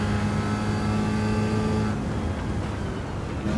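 Chevrolet Corvette C8 racing at Mount Panorama in Gran Turismo 7, a loud, steady engine drone holding high revs and then easing off slightly, with no talk.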